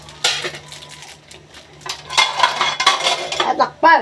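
A utensil stirs and scrapes inside a metal cooking pot in a home kitchen, with clinks and clatters against the pan, clearly audible over a steady low hum.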